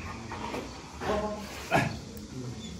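Dogo Argentino dogs in a yard give a couple of moderate barks and yips at separate moments over a faint background.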